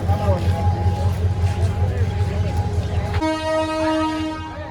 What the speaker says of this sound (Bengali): ট্রেন ছেড়ে দিল গফরগাঁ স্টেশন থেকে